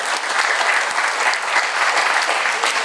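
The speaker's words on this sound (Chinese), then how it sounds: "我们先给梅峰总召热烈的掌声。" An audience at a medical forum applauds warmly, a dense, even burst of clapping that holds steady for a few seconds, loud and close, with no talking over it.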